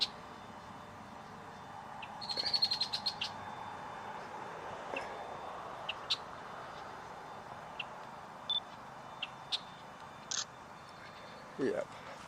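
Birds call at a bog, with sparse faint chirps and short high notes spread over a quiet outdoor background, some closer calls early on.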